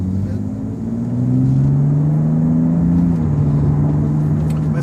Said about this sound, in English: this is the normal 3-liter, 6-cylinder, inline-6 twin-scroll turbocharger, 300 horsepower, 300 pounds of torque